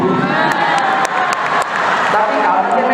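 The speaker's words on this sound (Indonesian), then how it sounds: "boleh tepuk tangan ya" A student crowd at a campus orientation event claps and cheers, with lively whoops and shouts under a spoken voice.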